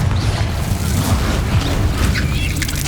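A Confringo blasting curse in Hogwarts Legacy explodes as a loud, close boom with crackling debris. A thick low rumble carries through, and brief sharper bursts flicker over it.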